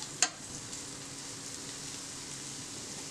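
Carrots and onion sizzle in a frying pan with a faint, even hiss, broken once near the start by a sharp utensil clink.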